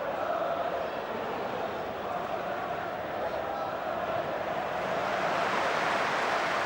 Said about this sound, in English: Warm applause for that ball from Keane